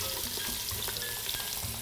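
Onions sizzle and fry steadily in a pan as the base of a red tomato sauce, a continuous close crackle with small pops and no talking.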